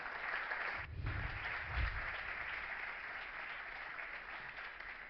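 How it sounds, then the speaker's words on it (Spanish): An audience at a Spanish academic lecture by Carmen Gómez Fayr on general relativity and black hole thermodynamics gives steady, moderately distant applause, sustained evenly throughout. "Un fuerte aplauso para ella."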